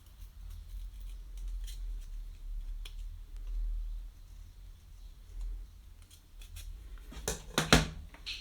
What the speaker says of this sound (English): And then just cut that shape out.